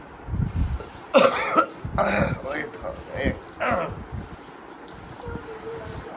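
A person coughs several times in rough bursts, close to the microphone, with wind noise and some voices in the background.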